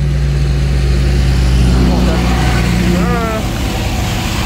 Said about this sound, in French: C'est le terrible tracteur.